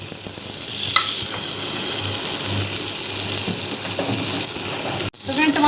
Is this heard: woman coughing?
no